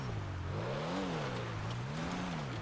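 Engine of a Pfister Comet Safari or Ubermacht Sentinel Classic in a video game, driving off-road through snow; a steady, loud growl with pitch rising and falling as the revs swing, heard alone.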